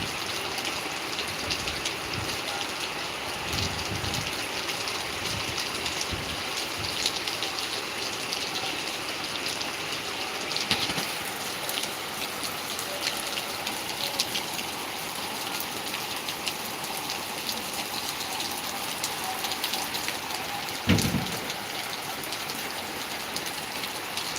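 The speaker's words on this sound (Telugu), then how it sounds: "ఈ వర్షం ఎలా పడుతుందో చూసుకోండి భారీ నుంచి అతి భారీ వర్షం ఇంకా పడడం జరుగుతుంది" Heavy cyclone rain pours steadily and loudly in a dense continuous roar, with occasional louder splashes, no talk.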